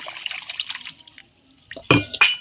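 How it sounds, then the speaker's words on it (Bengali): Water splashes and swishes as Gobindobhog rice is washed in a metal pot. Light watery handling comes first, then louder sloshing bursts close by near the end. "এবার আমি চালটা ধুয়ে নেব"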